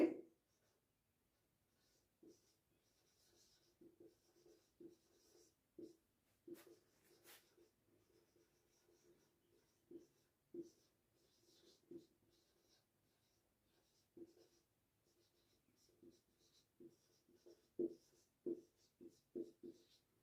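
Pen or marker writing numbers by hand during a math lesson on rational numbers, heard as soft, irregular scratching strokes and taps spread across the clip, fairly faint, with no talking.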